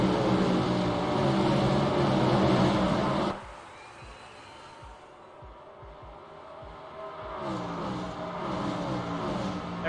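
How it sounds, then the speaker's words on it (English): Race car engines in a sim racing game at Daytona, a loud dense roar that suddenly cuts to a quieter stretch with faint engine pulses, then builds back up toward the end. "Hear the engines building up now."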